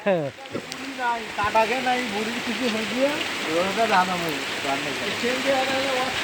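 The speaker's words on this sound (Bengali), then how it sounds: "খুব বৃষ্টি হচ্ছে" Heavy rain falls at night on a village road, a steady dense hiss throughout, with voices talking over it.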